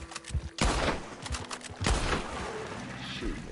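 Gunfire in Red Dead Redemption Online, a couple of loud bursts of shots with rumbling between them, heard under a player's talk.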